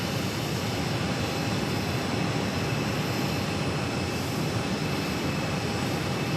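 Outside Phoenix Sky Harbor, an airplane landing on runway 8 gives a continuous broadband jet roar that holds steady and loud throughout, with no voices.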